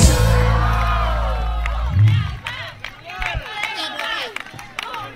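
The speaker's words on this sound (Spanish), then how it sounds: "Cuatro locas gritan." At a live carnival concert in Salta, Argentina, in 2021, women in the audience let out high, rising screams and whoops after a loud stretch of music, with someone talking among them.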